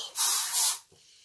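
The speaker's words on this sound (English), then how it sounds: "Oh, you just want to kind of spray it in your house." A lavender vanilla bathroom spray gives two quick pumped bursts, a bright airy hiss close to the ear, each puff lasting a fraction of a second, followed by near silence.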